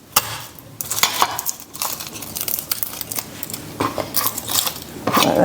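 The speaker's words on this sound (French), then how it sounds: "Je vais juste hacher mes gousses d'ail grossièrement." A knife coarsely chopping garlic cloves on a board, a series of sharp, irregular clicks and taps close by, with no talking.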